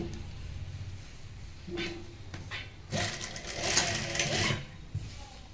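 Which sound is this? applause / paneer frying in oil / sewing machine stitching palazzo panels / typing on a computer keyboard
sewing machine stitching palazzo panels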